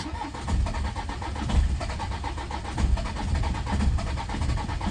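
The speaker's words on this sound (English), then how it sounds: "It's coughing, and it'll cough like that for quite a while. And then eventually it'll start." A Citroen C5 diesel engine cranks and coughs unevenly while trying to start, a steady churning with rough pulses swelling and fading several times, close and fairly quiet with no talk.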